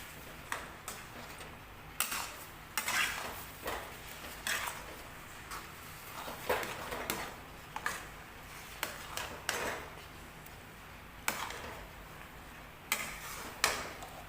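Mango chutney with nigella seeds being stirred in a pot, a spoon scraping and tapping the metal in irregular light clicks and knocks, close and fairly quiet, with no talking.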